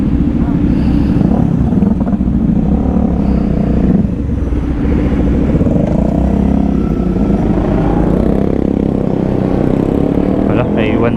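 Several motorcycles, a Honda Rebel among them, ride along on a Sunday group outing, a loud steady engine rumble with wind buffeting close to the rider, while people talk over it throughout.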